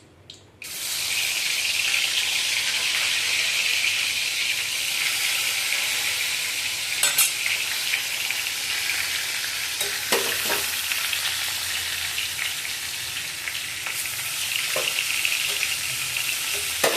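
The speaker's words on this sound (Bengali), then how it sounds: "মাছটা ভাজা হলে একটু পেঁয়াজ ভাজবো আলু ভাতে মাখার জন্য" Fish frying in hot oil gives a steady, close sizzle that runs almost the whole time, with a few faint clicks and knocks of utensils now and then.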